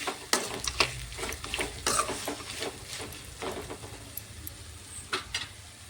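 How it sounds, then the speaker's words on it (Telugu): Okra fry being stirred in a pan with chili powder and salt, irregular scraping and clinking spoon strokes against the pan over a faint sizzle, close and fairly quiet. "ఒకసారి అయితే కలుపుతున్నా అండి కారం ఉప్పు మొత్తం పట్టాలి కదా"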